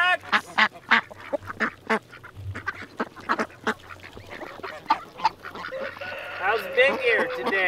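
Ducks quack among clucking chickens on a working farm during daily chores, a busy run of short calls near and far, with a person talking over part of the flock.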